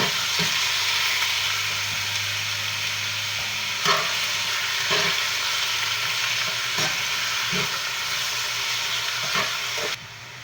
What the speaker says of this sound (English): I got this pan preheated, and we're going to brown this off